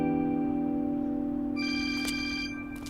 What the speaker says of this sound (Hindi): हसन भाई, आपका फोन।